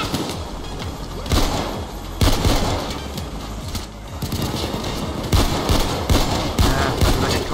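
Rapid automatic gunfire from a large AK-style rifle in the heist shooter Payday 2, loud, dense bursts of shots with brief gaps, mixed with other combat noise.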